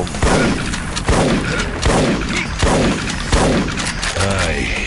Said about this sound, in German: Shotgun. Shotgun.